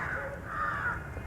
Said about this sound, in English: If you're listening to those crows and to those birds,